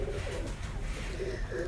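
Salara Teddy pigeon cooing close by, soft low repeated coos over a steady background hum, with no talking.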